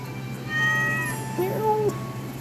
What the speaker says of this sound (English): Meow. I do love the cat.